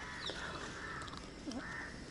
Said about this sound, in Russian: Прилетели попугаи. Они так орали.